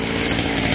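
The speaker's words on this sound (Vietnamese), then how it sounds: "Cây cốc này thì ba cũng cưa cái phần trên trước." Chainsaw cutting through the upper part of a large hog plum tree, a steady high-pitched motor whine held at constant revs for a brief moment, with no voices.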